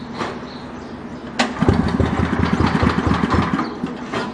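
A Power Stroke gas pressure washer engine is pull-started; after a sharp click it catches and runs with a rapid, rough, loud chugging rhythm close by.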